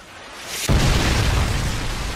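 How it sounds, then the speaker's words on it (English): A predator missile explosion in Modern Warfare 2 hits as a sudden loud boom after a quiet lead-in, followed by a sustained roaring rumble that lingers to the end. "Friendly predator missile inbound."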